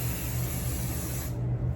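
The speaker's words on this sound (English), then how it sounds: "This is a very light spray." A light hair spray hisses steadily onto a frontal wig for about a second and a half, then cuts off, close and soft.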